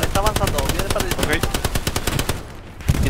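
Rapid bursts of automatic gunfire in the World War II shooter Hell Let Loose, dense and continuous for most of the clip with sharp repeated cracks, thinning briefly near the end before another shot.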